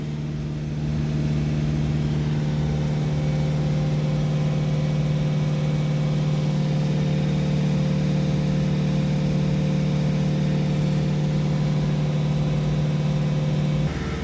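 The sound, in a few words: Peugeot Boxer 2.0 van engine revving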